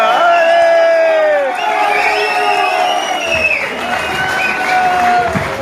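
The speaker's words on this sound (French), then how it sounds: "Merci de les accueillir avec des applaudissements dignes de ce moment historique." Wedding guests burst into loud applause, cheering and whoops, with shouting voices and a few children's cries riding over the clapping; the crowd noise stays steady and close throughout.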